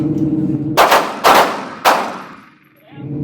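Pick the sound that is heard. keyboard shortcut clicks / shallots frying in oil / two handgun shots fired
two handgun shots fired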